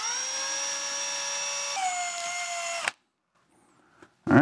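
A power mixer blends plaster and water for a slip casting mold, giving a steady, loud motor whine with a bright tonal hum that shifts pitch once, then cuts off abruptly. Quiet follows, and the motor briefly restarts at the end.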